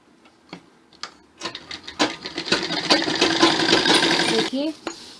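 A sewing machine stitches salwar panels together, starting with a few sparse clicks before running into a loud, fast, continuous rattle of stitching that stops abruptly near the end.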